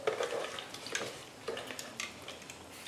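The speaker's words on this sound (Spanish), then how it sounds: "en este momento vamos a echar ya la hierba de apazote," Epazote herb going into a cooking pot, with soft stirring and faint sizzling at low volume, broken by scattered small clicks and rustles.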